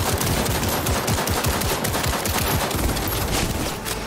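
Sustained automatic gunfire in Cyberpunk 2077, a dense, rapid stream of shots running nonstop at steady loudness with no talking.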